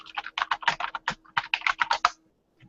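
Rapid typing on a computer keyboard, a steady run of close, crisp key clicks in bursts that stop abruptly, with no talking.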